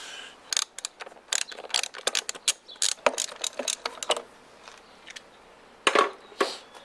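A hand ratchet backs a bolt out of the intake on an Aussie Barra 4.0L inline-six mounted on an engine stand, giving quick clusters of sharp, close clicks with brief pauses between.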